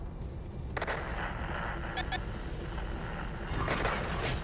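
A tank cannon fires in a war video game, with sharp bursts near the start and around two seconds over a steady low rumble, then a louder blast late, while a voice talks underneath.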